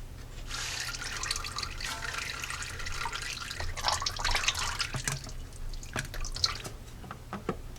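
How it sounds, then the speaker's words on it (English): Transmission fluid drips from the pan area of a 1978 Jeep J10 with a TH400 transmission, a rapid patter of wet drops, steady then thinning into separate splats, close by. "We're going to let that drip for a little bit so it slows down, so we're not just covering ourselves in transmission fluid."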